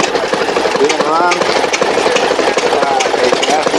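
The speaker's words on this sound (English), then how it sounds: "by a gasoline engine." A vintage gasoline engine runs loud and close with rapid, knocking, chugging beats, someone speaking over it.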